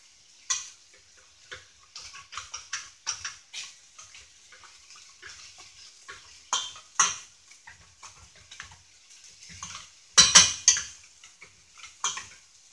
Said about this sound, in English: so I got my potato masher and I'm going to go ahead and mash my beans.